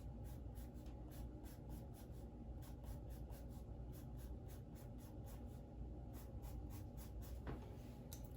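Pencil hatching on paper while shading the inside of a contour shoe drawing, with a quick rhythmic series of short scratchy strokes repeating evenly over a faint background hum.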